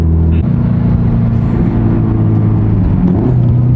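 A built Subaru STI accelerates hard with its wheels spinning, a loud, close, continuous engine roar and rumble that holds steady throughout without any talk.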